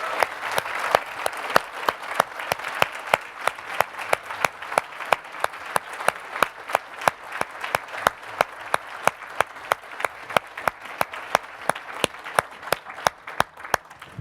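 A large conference crowd applauds steadily and sustained, dense clapping from many hands filling the room without a break, with no voices standing out.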